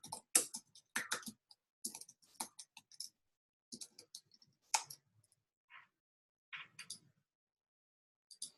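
A computer mouse gets clicked in short, quiet bursts of sharp clicks with gaps of silence between them, close by in an otherwise still room.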